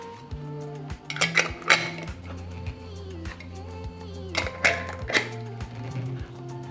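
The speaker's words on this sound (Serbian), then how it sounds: "meso i povrće će pustiti svoj sok i zatvaram ih sa čistim i novim poklopcima" Glass jars filled with meat and vegetables for canning get clean new lids fitted, producing several sharp glassy clinks and metallic lid clatters over a low steady background hum.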